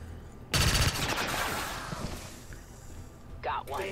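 A pistol shot in XCOM 2 War of the Chosen: one loud sharp crack with a ringing tail, followed by soft game ambience and a brief voice line.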